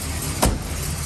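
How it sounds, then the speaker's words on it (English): A 1968 Dodge Monaco with a 440 Magnum engine runs close by, a steady broad rumble with one brief louder thump partway through. "Car is running."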